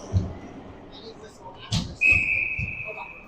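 At an ice hockey game, a referee's whistle sounds as a single sustained, fairly loud shrill tone lasting over a second, amid arena noise and voices talking.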